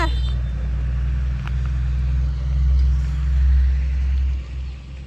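Steady low engine rumble from inside a car on the road, droning continuously at close range with slight swells in level and no talk.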